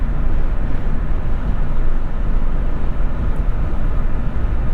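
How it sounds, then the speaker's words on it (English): Steady broadband wind and tire roar inside a 2022 Jeep Wrangler 392 cruising on the highway, a constant low rumble with no speech and no distinct exhaust note. "You can mostly just hear wind and tire."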